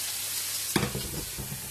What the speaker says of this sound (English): I'm frying off my sofrito, the carrots, the celery, the onions, and the garlic in a pot